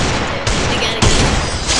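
Gunfire in a video game comes in loud, dense bursts, with a sharp jump in intensity about a second in and the noise staying heavy through the end.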